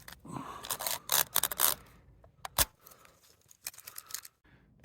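Plastic weather-stripping tape being peeled up from the roof of a Toyota Tacoma, a series of close, sharp crackling rips and scrapes in uneven bursts with short pauses between.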